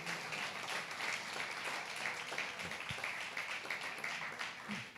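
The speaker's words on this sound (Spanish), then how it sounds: "Démele un aplauso al Señor Jesucristo." Congregation applauding in a church service, a steady wash of many hands clapping that stays dense and even throughout, with no break.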